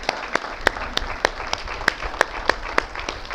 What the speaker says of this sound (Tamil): எல்லாரும் கொஞ்சம் எழுந்து நின்று கைத்தட்டுகள்.